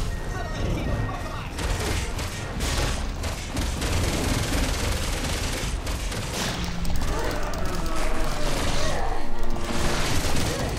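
Gunfire in Resident Evil 6 during the Jake and Sherry campaign, a loud continuous stream of shots and impacts with heavy booms and game action, voices talking underneath throughout.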